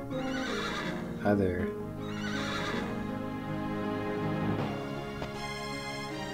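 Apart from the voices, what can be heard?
horse neighing in the video game Wild Arms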